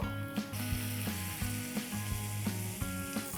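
Butter sizzles steadily on a hot tawa while tandoori corn roasts, with a constant fry hiss, a low tonal hum and regular soft clicks throughout.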